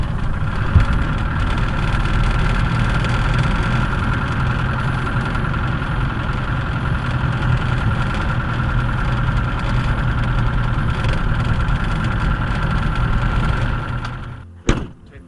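A car engine runs steadily while driving down to a quay, a constant close rumble with a door-like thud near the end.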